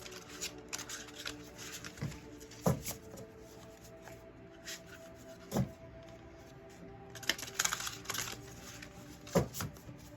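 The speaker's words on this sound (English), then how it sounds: "I'm over here shuffling on the side because I don't want to mess up the cards." Tarot cards shuffled by hand nearby, quiet riffling and sliding in intermittent bursts with a few sharper snaps, no talking over it.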